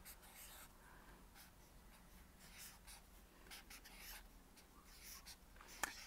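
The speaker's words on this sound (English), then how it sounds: "and I'm going to write the date." Pen writing the date on a blank page of a first-grade classroom journal, quiet scratchy strokes in short bursts close by, with faint breathing and room noise between.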